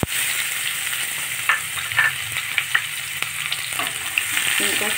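Chopped onions sizzle steadily in a pan with crushed ajwain while soya chunks are cooked, with a few soft stirring clicks and scrapes rising over the constant hiss.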